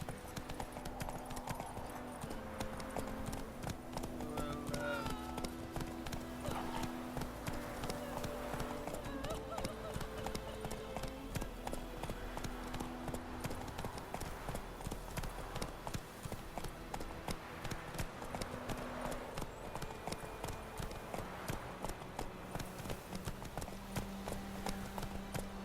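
Horse hooves clip-clop in a steady, continuous galloping rhythm while riding in The Witcher 3, under a bed of ambient game sound.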